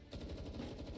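A brief, rapid burst of automatic video game gunfire, steady and rhythmic, heard at a moderate distance for about a second.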